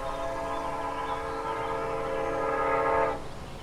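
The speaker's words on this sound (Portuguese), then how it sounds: "O trem invade o espaço acústico" A train rolls past, its steady, loud rumble carrying a strong droning horn-like tone that holds for about three seconds and then cuts off, leaving a quieter background.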